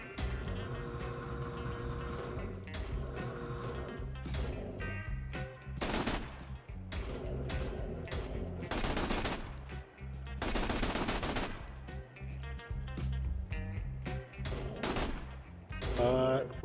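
Turret gunfire in Borderlands 2, loud rapid bursts of automatic shots in repeated clusters with broadband blasts over continuous game music and effects, sustained and close for most of the stretch.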